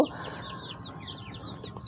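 Small chicken chicks peep and chirp in rapid, overlapping high calls, close and fairly soft against a low background hum.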